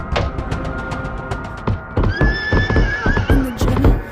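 A horse in the Mutants video game neighs loudly with a long wavering whinny over a steady run of hoof clip-clops, with game music and noise close behind.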